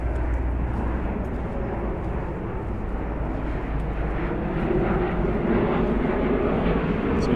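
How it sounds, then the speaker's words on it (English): A U.S. Navy plane passes overhead near an airport flight path in downtown Wilmington, North Carolina, its jet roar a steady, broad rumble filling the whole stretch outdoors. "It's a U.S. Navy plane flying over."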